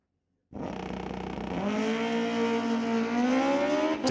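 A drag racing motorcycle launches down the strip at an NHRA Division 6 ET Finals, its engine bursting in loud and climbing in steady pitch as it pulls away, with no talk over it.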